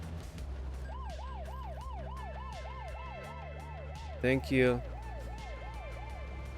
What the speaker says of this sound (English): That was a loud siren too.